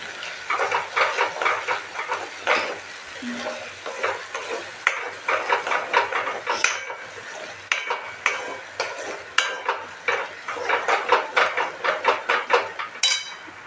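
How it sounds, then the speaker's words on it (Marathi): Masala seasoned with goda masala, black masala and salt fries in a pan for a paneer curry. A spatula scrapes and stirs in a quick, repeated rhythm over a soft, close sizzle. "मस्तपैकी याला फ्राय करून घेते"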